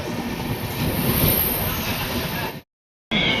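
The Kumbha Express train rumbles steadily into Lucknow Junction with clattering wheels and a high metallic squeal, close and continuous, before cutting to silence and briefly resuming.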